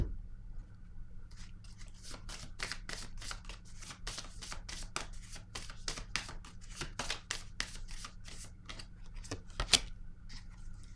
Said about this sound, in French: Ici, je vais déposer une carte.